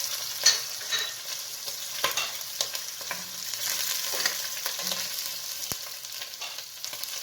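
Okra being fried and stirred in a pot with meat and garlic, a soft steady sizzle broken by scraping spoon strokes and light clinks, close up with no talk.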